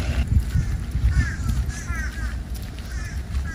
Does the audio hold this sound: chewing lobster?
no